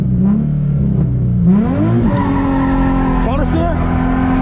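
A drift car's engine revving hard as it slides, rising and falling engine pitch with tire squeal, close and loud, while a person calls out short driving instructions over it.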